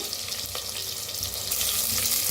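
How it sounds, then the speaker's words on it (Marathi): Cumin and onion hit hot oil for soya pulao, a close, constant sizzle that swells louder and brighter partway through. "तेल चांगलं गरम झालेलं आहे त्याच्यात टाकूया जिरं त्याच्यात टाकूया कांदा"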